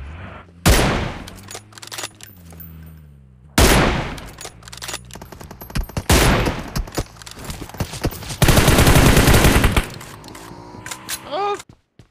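Bursts of machine gun fire from the Battlegrounds Mobile India game crack out in several loud, separate volleys with short gaps, ending in a long sustained rattle followed by scattered shots.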